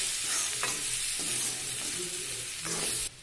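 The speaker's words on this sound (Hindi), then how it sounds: "अब हम सभी मसाले को अच्छे से मिक्स कर लेंगे।" Ground whole spices being stirred into chickpeas (chhole) frying in a pan, a dense close sizzle with several scraping strokes of a spoon, unaccompanied by speech, ending in a sudden drop in level.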